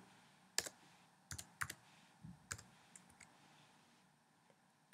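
Someone types on a computer keyboard, producing a handful of sharp, close key clicks in uneven bursts that sound quiet and isolated against a faint room hush.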